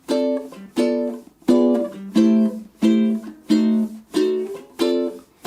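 Strummed ukulele jazz chords ring out one after another in an even rhythm, each bright strum decaying before the next change, with no voices.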